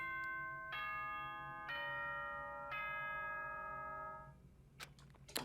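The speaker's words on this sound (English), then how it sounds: "The bell." Chiming tones of a school bell from the video game Danganronpa: Trigger Happy Havoc, a clear sequence of ringing notes struck one after another, each left to sustain and fade, followed by a few short clicks at the end.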